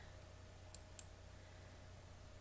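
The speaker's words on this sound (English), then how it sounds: "So I click Run Module." Two crisp computer mouse clicks, close and quiet, one after the other in an otherwise still room with a faint electrical hum beneath.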